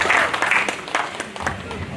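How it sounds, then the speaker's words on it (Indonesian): An audience at a public discussion forum claps for a questioner in a short burst of applause, with a voice talking over it. "Tepuk tangannya boleh kita apresiasi"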